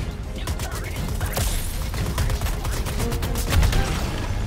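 Enemy gunfire tearing through a building in the Suicide Squad action game, a dense, continuous barrage of loud shots and impacts with a heavy boom near the end.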